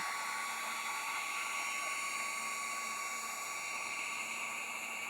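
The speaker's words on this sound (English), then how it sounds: "Then I'm going to take a heat gun and dry the first coat." A heat gun blows a steady, loud, continuous whine with a high-pitched hiss, drying the first coat of paint on a thrifted piece during a cottage French farmhouse makeover; no one speaks.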